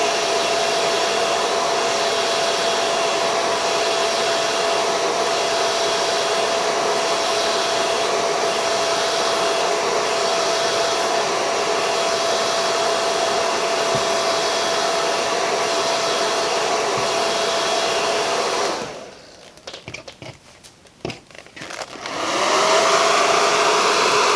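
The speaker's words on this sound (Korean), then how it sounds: "윗면에도 헤어 드라이기를, 드라이기를 말렸는데" A hair dryer blows steadily for about twenty seconds while drying a recycled art craft piece in a class, a loud, close, continuous whoosh that cuts out abruptly near the end, sputters briefly, then roars back on.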